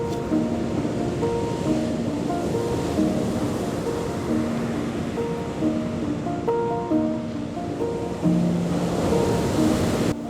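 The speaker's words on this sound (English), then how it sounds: "We ended up at this beautiful beach." Ocean surf rolls continuously onto a deserted Sardinian beach, a steady, loud wash of waves with wind, no voices.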